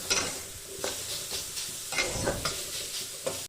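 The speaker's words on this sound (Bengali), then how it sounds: "এবার আমি এর মধ্যে ভেজে রাখা বেগুনগুলো দিয়ে দেব আর ভালো করে মিশিয়ে নিলেই রেডি বেতো শাক" Bathua greens being stirred together with fried eggplant in a pan, a soft sizzle running throughout with scraping spatula strokes coming in bursts, close and steady, no voices.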